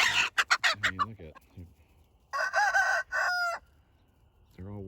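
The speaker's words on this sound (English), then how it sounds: "I got too many roosters." Roosters among a flock of meat cross-breed chickens, with loud clucking and squawks up front, then a long, close rooster crow in two strained bursts, and more clucking at the end.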